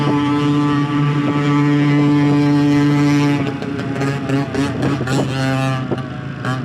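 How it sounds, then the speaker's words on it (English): Small motorcycle engines rev on a highway, a steady harmonic drone for about three seconds, then shifting, rising revs from several engines close by, loud and continuous without speech. "Talk about revving engines, tiny engines, and dangerous riding."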